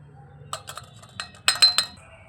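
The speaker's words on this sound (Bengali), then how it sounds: "এই পুরটাকে এখন আমি একটা বাটির মধ্যে নামিয়ে নেব" A spoon clinks repeatedly against a bowl as a dry coriander-leaf filling for patishapta pancakes is scooped across, a few light taps followed by three louder, sharper clinks close by with no voices.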